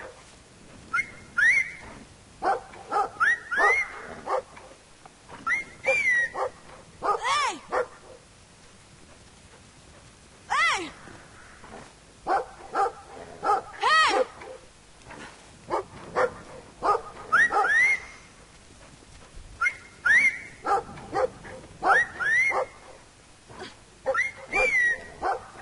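A dog in the video game Brothers: A Tale of Two Sons barks in repeated short, sharp bursts with yips and whimpering whines between them, loud and close, with quiet pauses between the volleys.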